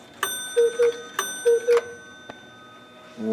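Cuckoo clocks in a Swiss clock shop strike clear two-note cuckoo calls, two pairs in quick succession, with ringing chime overtones, close and bright with no talking.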